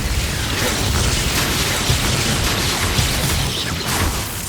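A Confringo fire spell explodes in the game Hogwarts Legacy, a loud, dense roaring blast of noise that fills the whole few seconds, with no talking.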